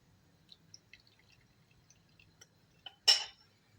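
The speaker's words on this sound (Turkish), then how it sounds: "Pişen bakliyatlarımızın içine arkadaşlar özlediğimiz yoğurdumuzu kontrollü bir şekilde içine aktarıyorum" Yogurt poured gradually into cooked legumes for a yogurt-based legume soup: faint scattered drips in a quiet room, then one short, wet splash as the bulk lands.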